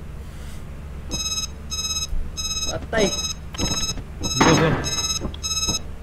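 An alarm clock rings in repeated bursts of bright electronic beeps, near and loud, while people talk and shout over it.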